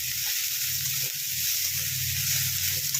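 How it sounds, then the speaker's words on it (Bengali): Chowmein sizzles hard in a pan over a high flame, a steady loud hiss with soft scraping stirs and a low hum beneath, no voices. "এটাকে সব হাই ফ্লেমে এবার নাড়ছি আমি"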